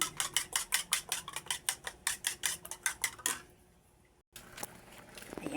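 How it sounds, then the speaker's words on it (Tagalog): Rapid rhythmic clicking of a fork beating eggs in a bowl, quick regular strokes for a few seconds, then a pause and a few more taps. "Babatin pa natin ang itlog."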